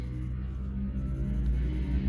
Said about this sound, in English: Very noisy motorbikes going past.